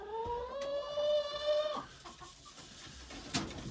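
Several chickens in a winter coop cluck and squawk at feeding time, one drawn-out call followed by scattered clucks and a sharp cry, close to the listener.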